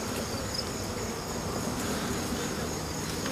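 Honey bees buzzing at a hive during a mite treatment with formic acid, a steady dense hum close by with no talking over it.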